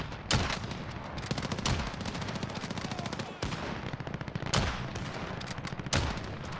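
Call of Duty Warzone gunfire crackles in rapid automatic bursts, loud and close, with a few heavier shots standing out from the steady stream of fire.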